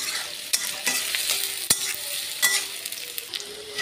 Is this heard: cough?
no